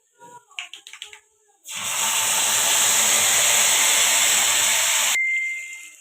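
Tamarind juice is poured into garlic frying in oil and bursts into a loud, steady sizzle that lasts a few seconds before cutting off, after brief talk and clatter.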